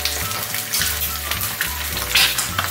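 Loud, continuous sizzling as sauce is poured over hot microwaved food for arroz a la cubana, with a crackling hiss and a low bubbling hum underneath.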